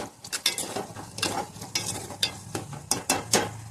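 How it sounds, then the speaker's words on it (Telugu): A spoon scrapes and clacks against a pan while beef fry is stirred with salt and chili powder, giving irregular close knocks over a soft, steady sizzle. "కారం కూడా వేసుకొని ఉప్పు కారాలు ఈ కర్రీకి బాగా పట్టేలా కలుపుకోవాలి."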